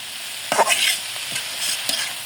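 Chopped banana stem fries in a pan, a steady close sizzle broken by scraping stirs of a spatula several times, with no voices.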